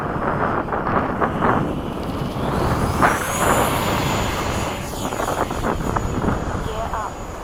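A radio-controlled F/A-18 electric ducted fan jet does touch-and-go passes, giving a steady whining turbine roar with a rising tone midway, heavy wind buffeting the microphone and people talking throughout.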